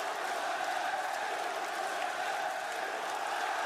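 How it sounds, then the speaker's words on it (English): Wrestling arena crowd at Crown Jewel 2024 during a championship match, a steady, distant roar of cheering that holds evenly with no breaks or peaks. "And the crowd are getting into it now"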